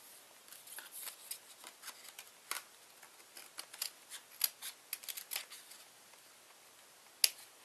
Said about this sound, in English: Make sure you don't need to cut more cardboard, because right here, turns out I need to cut a little more.